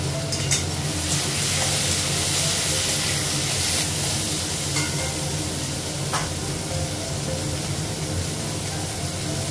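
Green chillies fry in a pan over a gas flame turned up high, giving a steady, close, loud sizzle and hiss with a few brief stirring scrapes and spits, no voices.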